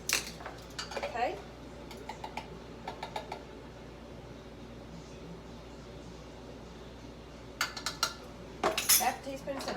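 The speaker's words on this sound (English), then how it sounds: "We're just going to give that a little stir." Flour mixed with salt and cinnamon for oatmeal cookie dough, stirred in a bowl with a few quick clinks and scrapes of a utensil at the start and again near the end, a quiet hum between, a voice faintly present.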